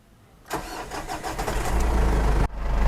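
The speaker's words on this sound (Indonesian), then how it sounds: "Kita dengerin suara solarnya coba." A 2007 Ford Everest turbo diesel cranks and catches with a sudden loud burst, settling into a rough, clattering idle that builds in low rumble, with a brief dip before the engine note rises again, close up.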